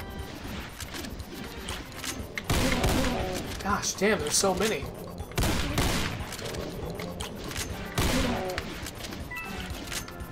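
Rapid gunfire and cannon blasts in The Golden Souls 3 crackle in dense, loud volleys throughout, with shotgun shots and booming bursts, as a player talks over the battle.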